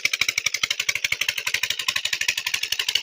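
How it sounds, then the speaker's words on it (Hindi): A tubewell pump engine runs steadily nearby, its rapid even firing pulses thumping in a regular chugging rhythm, loud and close with no voices over it. "ट्यूबवेल चल चुका है और लेबर वालों को पानी दिया जा रहा है।"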